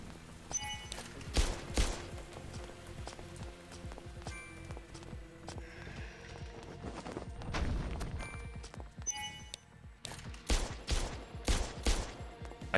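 Gunfire in the Parasite Mutant video game: scattered loud shots and short bursts ring out amid in-game rumbles, metallic clanks and footsteps, spread unevenly across the stretch.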